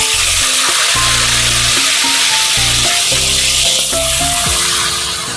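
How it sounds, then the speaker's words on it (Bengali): Katla fish pieces rubbed with salt and turmeric fry in hot oil in a kadai wok, giving a steady, loud, close crackling sizzle with soft tonal sounds running underneath throughout. "মাছগুলো প্রথমে ভেজে নিই।"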